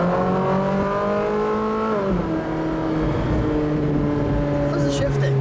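Naturally aspirated 2015 Ferrari 458 Speciale engine pulling hard in first gear, a loud steady rising engine note with a brief dip in pitch around the two-second mark, then climbing again, close and continuous.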